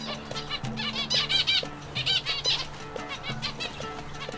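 Fluffy chicks and zebra finches share an indoor bird house, giving busy bursts of high chirps and peeps over soft, steady low tones and occasional wing flutters, close by with no talking.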